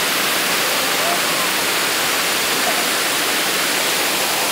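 A waterfall in Bali roars steadily and loudly, a dense, unbroken wash of falling water filling the whole scene from start to finish.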